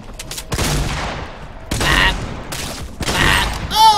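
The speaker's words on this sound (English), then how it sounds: "Shotgun." Shotgun blasts in a video game, several loud sharp shots spaced about a second apart, each with a decaying rumbling tail, mixed with game effects near the end.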